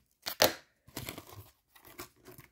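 Packing tape being torn and peeled off a trading card mail shipment in three short, close, rasping pulls separated by brief silences.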